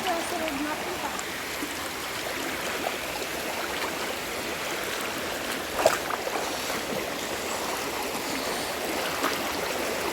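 Water from a mountain stream rushes in a steady, broadband wash that stays even throughout, with one brief knock partway through.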